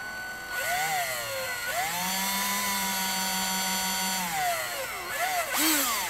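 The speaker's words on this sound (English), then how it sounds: "And I drill in it." Power drill boring into an engine part, a sustained whining motor note that rises in pitch as it spins up, holds steady, then slows and revs briefly again, close and loud with no talk.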